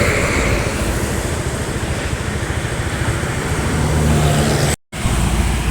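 A Mercedes-Benz Travego bus passes on an Indonesian highway, a loud continuous roar of engine and road noise close by.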